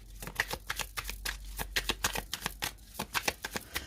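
Tarot cards shuffled and cut by hand, a rapid run of crisp papery flicks and riffles in an uneven rhythm, close and moderately quiet with no talk.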